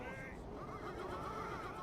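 A horse whinnies in the Third Age Total War strategy game, a faint, wavering neigh over a low rumbling battlefield din, brief and alone without talk.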